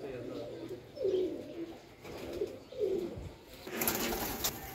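A Chinese teddy pigeon coos in a repeated rhythm, four low throaty phrases close by and fairly soft, followed by a brief rustle near the end.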